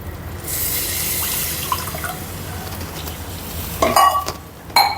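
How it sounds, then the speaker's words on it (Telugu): About one and a half glasses of water are poured over rice in a pot for meal maker pulao, a close, steady rush that fades into a few dripping and stirring knocks. "గ్లాసున్నర నీళ్ళు వేద్దాం సరిపోతాయి"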